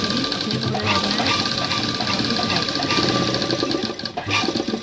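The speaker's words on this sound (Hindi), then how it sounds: "आपको इस पर सिलाई देनी है जिससे कि इधर उधर ना हो" A sewing machine stitches a fabric strip for a hook-and-eye tape in fast, steady bursts of close mechanical chatter, with a brief pause near the end.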